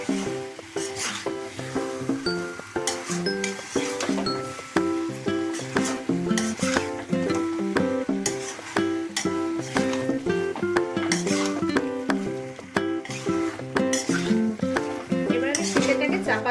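Chicken curry with potatoes and spices sautéing in a pan, a spoon scraping and clinking against the metal under a continuous sizzle, with music playing loudly throughout.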